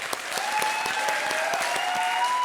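A studio comedy-show audience claps steadily and loudly throughout, a dense continuous wash of hands with no voices on top.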